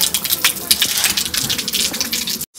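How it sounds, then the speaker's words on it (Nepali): Rain pouring outdoors near a bus park on the way from Ghandruk, a loud, dense hiss of drops hitting surfaces that continues steadily before cutting off abruptly at the end. "पानी पर्न लाग्यो"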